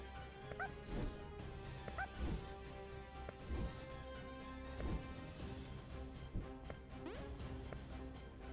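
Several barks from a dog in the video game Ayo the Clown, sharp yelps spaced about once a second over looping game music, with a few whimpers and crashes mixed in.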